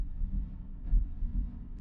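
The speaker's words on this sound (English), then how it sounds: "That's my heartbeat." A recorded human heartbeat pulses low and muffled beneath a song intro, soft repeated thumps in a slow steady rhythm with a faint hum, no voices.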